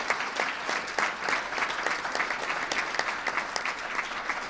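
Audience applause at a Project Exile breakfast event, a steady wash of clapping from a sizable crowd that holds at an even level throughout without any talk.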